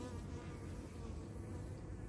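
Honey bees buzz around a beehive just opened for a honey harvest, a steady, close, continuous drone of many agitated bees with no talk.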